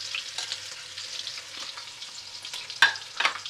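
Crushed ginger, garlic and green chilli fry in hot oil for a Kerala-style kappa biriyani, giving a steady close sizzle with a few sharper crackles and spatters near the end.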